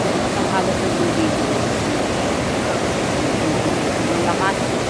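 A powerful waterfall roars steadily with dense, continuous rushing water, close and loud throughout.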